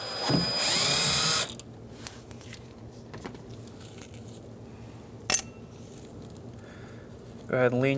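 A power drill whirs loudly for about a second at the start while backing out Phillips screws from a 2007-2015 Mazda CX-9 door speaker, followed by quiet handling clicks, a sharp tap, and a second brief drill burst at the end.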